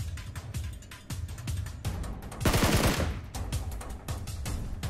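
Rapid automatic gunfire from PUBG Mobile crackles in sharp repeated bursts, loud and close, with a denser volley in the middle and no talk over it.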